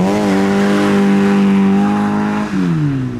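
A modified car pulls away hard from a car meet, its engine roaring loud and close as the revs climb steadily, then dip briefly at a gear change before rising again.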